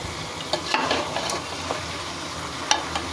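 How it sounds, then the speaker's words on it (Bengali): Beef curry with salt added is stirred in a pan over steady close frying sizzle, with occasional soft scrapes and taps of the spoon. "নাড়াচাড়া করে নিব।"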